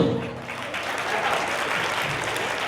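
Steady applause from an audience at a World Heart Day gathering in Kurnool, continuous and fairly loud for the whole stretch, with no voice rising above it.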